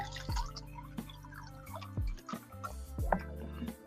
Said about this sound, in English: I'm just drinking some Niagara water.